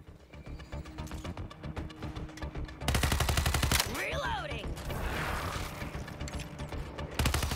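Rapid video game gunfire from an Xbox Series S shooter, a loud rattling run of repeated shots that thickens into a heavier sustained burst, with a whooshing sweep in the middle.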